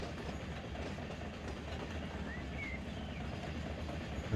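In Run8, a train pulls a string of freight cars with a steady, low rumble and faint clickety-clack of wheels on rail, continuous and moderately distant.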